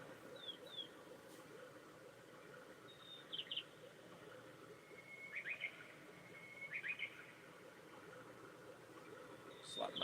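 Faint nature ambience plays from a projector, a soft steady hiss like a running river with small birds chirping in brief, scattered bursts in the background.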